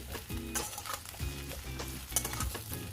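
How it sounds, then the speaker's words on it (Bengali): Grated coconut frying in a pan for a Bengali braised sweet pumpkin and potato dish, a steady close sizzle with scraping stirs and light utensil clinks throughout, no talking. "নারকেল দিয়ে ভাজতে হবে, নারকেলটা যাতে গোল্ডেন ব্রাউন হয়ে যায়।"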